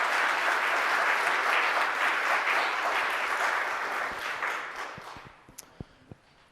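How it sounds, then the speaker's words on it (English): An audience at an MLK Day celebration breaks into sustained applause, a dense wash of clapping that holds steady before thinning out toward the end into a few scattered final claps. "if you would give all of them a round of applause"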